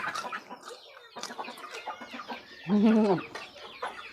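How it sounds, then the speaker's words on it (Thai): Chickens clucking nearby in a farmyard, with scattered short clucks throughout and one louder, drawn-out squawking call near the end, standing out clearly over quiet background. "กินข้าวกับไก่ค่ะไก่เยอะนี"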